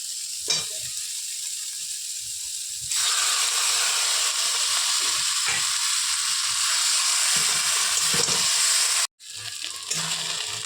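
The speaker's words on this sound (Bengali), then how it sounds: "সিদ্ধ করা কচু শাকটা এখন দিয়ে দেব।" Boiled taro leaves tossed with prawns in a frying pan, giving a loud, steady sizzle that swells when the leaves go in, with occasional stirring scrapes and a brief dropout near the end.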